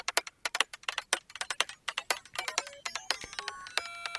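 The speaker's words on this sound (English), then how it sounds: "But the one I used in this sound was the glitchy freeze effect." Percussion hits processed by Unfiltered Audio Spec Ops' glitchy freeze effect, starting as a steady run of crisp clicky strikes that break into stuttering, frozen tonal smears and sustained glitch tones toward the end, close and with no voices.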